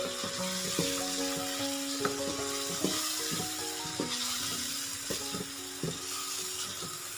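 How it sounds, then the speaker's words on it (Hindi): Beef with cumin powder and spices is roasted (bhuna) in a pot for beef aloo gosht, giving a soft, continuous sizzle broken by clinks and scrapes of a spoon against the pot. "जब तक हमारे गोश्त की बुनाई हो रही है"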